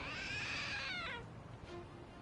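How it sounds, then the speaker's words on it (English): A trick statue in the video game Lost Judgment gives out a single cat-like meow, drawn out and wavering before trailing off, fairly quiet and heard alone. "It meowed. So it's a trick statue?"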